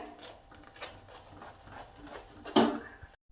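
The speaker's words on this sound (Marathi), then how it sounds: "आता आपण खिसणीने कोबी खिसून घेऊया" Cabbage grated by hand on a large steel grater over a plate, producing soft rasping scrapes that repeat steadily with one louder scrape near the end, close and fairly quiet.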